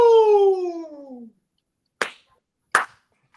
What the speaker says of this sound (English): You get the two claps.